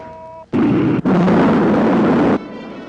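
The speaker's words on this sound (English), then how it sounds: "Rocket 1, second stage. Fire." A rocket's second stage fires in a 1958 science-fiction film: a sudden loud roaring blast that cuts out briefly, then resumes as a sustained thunderous rush for about two seconds before dropping to a lower hum.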